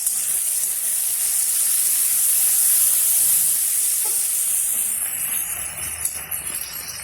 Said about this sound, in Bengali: দেখো পেঁয়াজটা ভাজা হচ্ছে